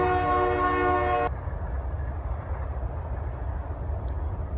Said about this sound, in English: Get a little train action.